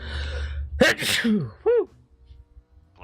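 A single loud, close sneeze bursts out, followed by a short shouted exclamation and then quiet room tone.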